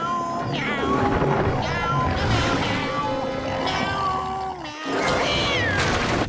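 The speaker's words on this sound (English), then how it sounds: "only Gary is present on the fence, but he's singing the exact same song" Gary, the cartoon snail from SpongeBob SquarePants, meows over and over in a sing-song pattern on a fence, the loud, steady meows sitting over a musical backing.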